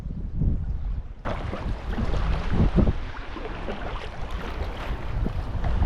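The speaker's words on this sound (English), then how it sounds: "It is a little bit windy this morning," Steady wind roars and buffets the microphone throughout during a sea kayaking crossing near Jedidiah Island, with a low rumble of water underneath; no talking.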